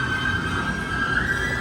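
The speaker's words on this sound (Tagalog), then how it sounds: "Ako sa tren" A crowded passenger train heard from inside, with a steady loud rumble of wheels on rails and a thin, sustained metallic squeal running over it.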